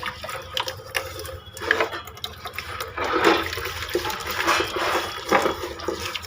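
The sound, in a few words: tap water running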